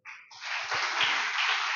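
Church congregation applauding its leaders, a dense broadband wash of clapping that swells within a moment and holds steady and loud, with a few low thumps underneath.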